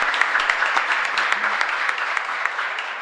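A congregation at Mass in a chapel applauds young people finishing their graduation, a lively, steady wash of many hands clapping, fairly loud and continuous throughout.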